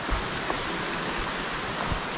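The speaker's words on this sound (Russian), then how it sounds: "Мы покидаем этот водопадик" A small waterfall on a mountain trail near Lazarevskoye, Sochi, a steady close rushing wash of falling water with faint splashes, continuous and even, with no voices.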